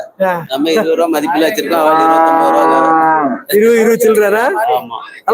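Cattle at the Melapalayam livestock market give long, loud, close moos, one drawn-out call filling most of the stretch, with market voices around them.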